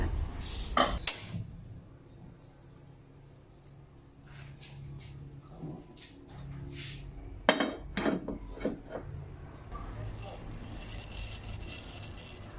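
Metal and wooden clanks as a casserole pot is set down and shifted on a kitchen stove, a few sharp knocks over low kitchen hum, no talking.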